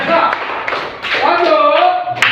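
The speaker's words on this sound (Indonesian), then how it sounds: "Oke, tepuk tangan dulu." Hands clapping in a classroom during a coding and artificial intelligence lesson, with several claps mixed under a teacher's voice and fairly loud throughout.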